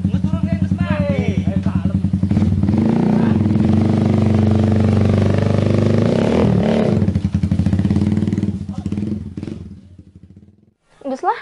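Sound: motorcycle riding

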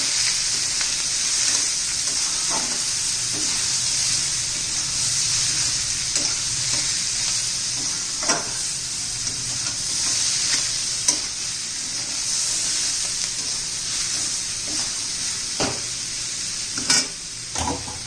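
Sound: bottle gourd curry sautéed with salt in a pan

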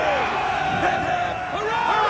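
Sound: crowd cheering in the video game Assassin's Creed III

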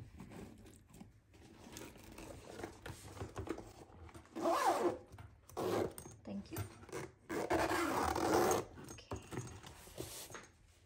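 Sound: zipping up a tool set case

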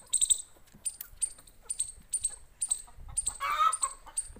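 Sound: chickens clucking on small village poultry farm

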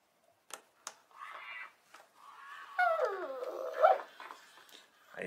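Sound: robot dog barking and whimpering

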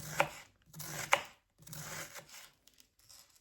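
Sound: knife chopping food

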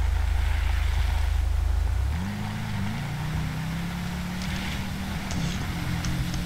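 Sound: vehicle engine braking downhill in video game GTA 5

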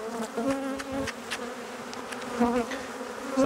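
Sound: honey bees buzzing around a hive frame

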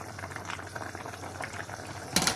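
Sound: meat and okra stew boiling in a pot

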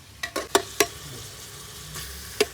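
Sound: stirring vegetables in a pan

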